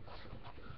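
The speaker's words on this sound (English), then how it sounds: "Sometimes dogs touch me. Leave it open." Puppies panting and snuffling briefly at close range, a short burst of soft breathy dog sounds with no talking.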